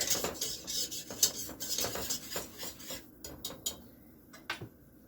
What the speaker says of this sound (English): Whisk it in until there's no more little lumps in there